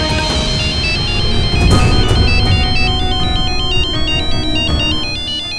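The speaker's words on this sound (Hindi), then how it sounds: "विशेष का फोन।" A mobile phone ringtone plays loudly and alone for several seconds, a repeating electronic melody of bright, pulsing tones in a household setting.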